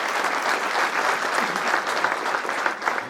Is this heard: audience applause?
yes